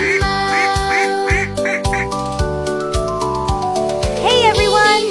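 Cartoon ducks in a children's show quack in a quick repeated series over a bouncy, melodic music track, loud and close throughout.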